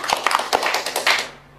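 A short burst of hand clapping from a small audience at an Islamic preacher's talk, several sharp uneven claps over a second or so, then fading out.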